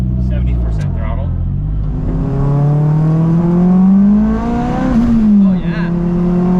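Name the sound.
AWD turbo Acura RSX with full exhaust accelerating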